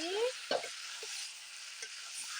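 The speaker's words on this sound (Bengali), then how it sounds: "তো যে চিকেনটা ভালোভাবে কষানো হয়ে গেছে এখন এখানে দিয়ে দিচ্ছি" Already-browned chicken pieces for chicken kosha tipped into a hot pan and stirred, a soft thump followed by a steady sizzle and a few faint scraping stirs, close and alone with no talk.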